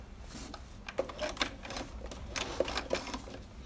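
A BERNINA 1130 sewing machine stitches a decorative pattern with rapid, mechanical ticking and a few sharp clicks, moderately close and steady throughout.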